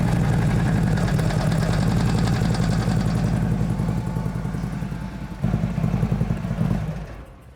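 Harley-Davidson motorcycle engine idling just after an oil change, a close, steady low rumbling lope with light mechanical clatter and a brief surge near the end.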